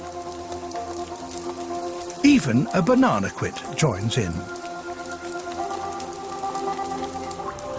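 Rain pattering steadily on rainforest leaves where hummingbirds bathe. The downpour holds a constant hiss under a calm narrating voice.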